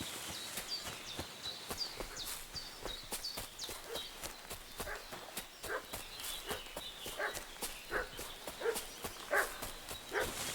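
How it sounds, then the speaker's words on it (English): Dog barks in Kingdom Come: Deliverance II come in a quick irregular series at middle distance, mixed with hoof clip-clops and footsteps outdoors, with no one talking. "What's that dog making such a fuss about?"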